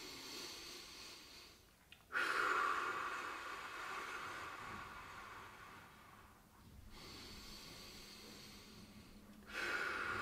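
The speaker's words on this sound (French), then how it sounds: "De nouveau, 3 respirations." Slow, deep breaths during a seated neck stretch in a gentle chair exercise session, three long airy inhales and exhales close to the microphone, separated by short quiet gaps.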